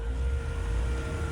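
The air compressor fan in a BMW 335is with an upgraded turbo runs with a steady, fairly quiet whirring drone and a low rumble underneath, unchanging through the short stretch.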